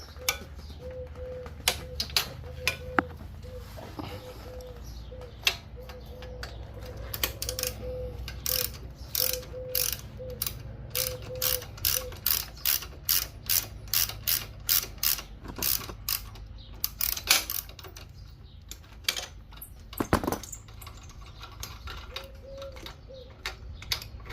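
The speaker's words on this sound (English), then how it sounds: "Okay, let's remove these two bolts. Those are 1/2 inch." Ratchet wrench clicking steadily while backing out half-inch bolts on a Harley-Davidson Sportster engine during lifter replacement, with quick bursts of ratcheting separated by short pauses and occasional metallic clinks, close and fairly quiet, no talking.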